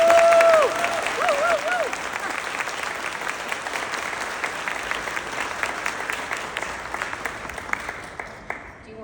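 Audience at a pharmacy association annual meeting applauds the Pharmacist of the Year award winner with sustained, steady clapping from a large crowd, loud at first and fading slowly toward the end, with no one speaking over it.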